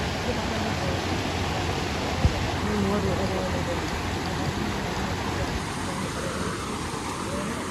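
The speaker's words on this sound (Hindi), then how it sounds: "पानी तेजी से जा रहा है। ये पानी कहाँ जाएगा दोस्त? इतना तेजी से जा रहा है।" Fast-flowing floodwater rushing in a flood-damaged area of Bhellapara, Karbi Anglong, a broad, steady roar that stays constant throughout, with faint voices under it.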